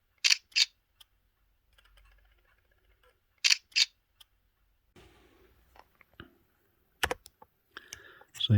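Sharp paired plastic clicks from a thrift-shop compact camera as its battery compartment is slid and snapped open, followed by softer fumbling clicks and small rattles as the battery pops up, close and quiet.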